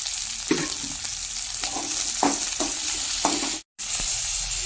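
Sliced big onions and green chillies sizzle in hot oil in a pan, a steady close crackle with several louder bursts as they are stirred, and no voices.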